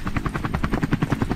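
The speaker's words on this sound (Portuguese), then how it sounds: "Tem um helicóptero aqui em cima sobrevoando." A helicopter flies overhead in the Brazilian FPS game Capital, its rotor thumping in a fast, regular pulse that sounds loud and close, with no talk over it.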